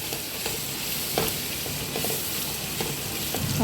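Tomatoes sautéing in a pan for paneer pulao give a steady close sizzle with soft stirring scrapes, unbroken and fairly quiet throughout.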